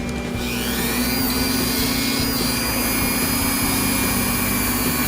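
An Aurora Maserati slot car motor, freshly cleaned up with a Dremel, spins freely on the bench with a continuous high-pitched whine and an even electric hum, close and unbroken.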